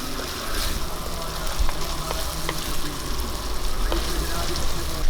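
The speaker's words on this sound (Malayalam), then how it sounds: "നമുക്ക് ഇളക്കി കൊടുത്ത് വഴറ്റാം." Onions, green chillies and spices sautéing in a pan for a sardine curry, a steady close sizzle with light scraping from stirring, no talking.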